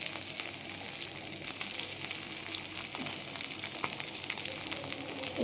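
Boiled potatoes frying in a mix of refined and mustard oil with panch phoron, a soft continuous sizzle with faint occasional stirring clicks, close but quiet, no talk.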